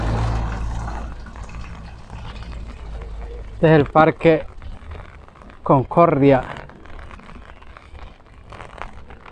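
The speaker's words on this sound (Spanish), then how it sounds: "Está en lo mejor de llover en este momento." Hurricane Julia's rain falls steadily over Parque Concordia in Ahuachapán, El Salvador, a constant hiss filling the background while someone talks over it.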